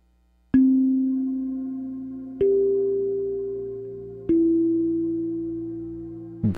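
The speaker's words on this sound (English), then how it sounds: "Okay, so we have our nice plain kalimba." Three plucked kalimba notes ring out one at a time, each sustaining and slowly fading before the next, clean and close.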